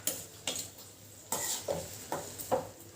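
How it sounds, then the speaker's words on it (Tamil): Vegetables sautéing in oil in a pan for an egg curry, a spatula scraping and tapping the metal in about half a dozen evenly spaced strokes over a soft sizzle, close and fairly quiet with nobody speaking. "அவங்களையும் ஒரு வதக்கு வதக்கிக்கலாம்"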